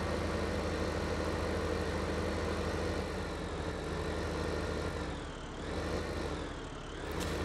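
Tractor engine driving at around 50 km/h in the farming game Landwirtschafts-Simulator 15, a steady, loud, continuous engine drone with rumbling low end that dips briefly near the end, no talk.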